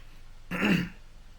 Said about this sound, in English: I got to totally cough right now, or I feel like I'm going to cough a lung